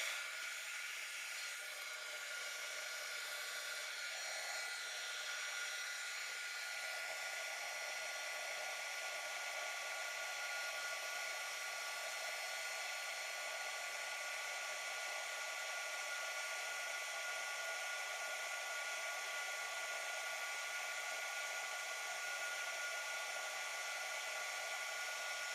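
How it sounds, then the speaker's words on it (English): A heat gun blows hot air onto solder on a round jewelry pendant, a continuous, steady whooshing whir with a high motor whine that runs unbroken and close for the whole stretch, with no talking. "And again, I'm going to use the heat gun."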